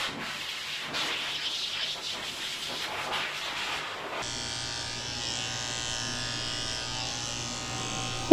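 Electric pet clippers fitted with a number 7 blade run steadily on a Shih Tzu's coat, a constant close buzzing hum that shifts in tone partway through as the clipper moves over the dog.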